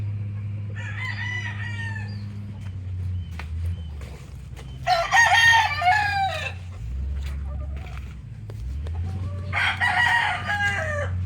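Gamefowl roosters crow in repeated bursts over a steady low background hum, with occasional hen clucks between calls; the crows are fairly close and loud.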